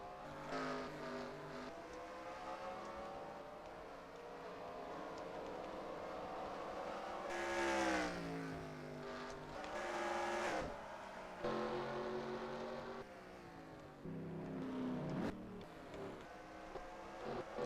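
NASCAR stock cars race in the NR2003 sim on a road-course event, a dense, continuous roar of engines with pitch sweeping up and down as cars rev and pass, sustained throughout without talk.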